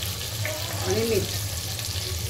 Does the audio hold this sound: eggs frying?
yes